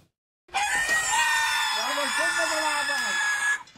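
A piglet squeals loudly while two adults hold it down, a sustained high-pitched shriek lasting about three seconds that wavers and rises, close and alone.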